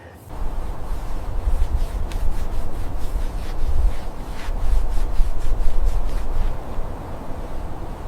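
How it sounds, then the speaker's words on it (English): A dual action polisher works over cherry red paint on an old Saurer bus being restored, giving a steady, close, broadband rubbing whir that holds for about eight seconds with slight swells and no talk. "The dual action polisher is making quick work of this cherry red paint, bringing out a stunning deep gloss"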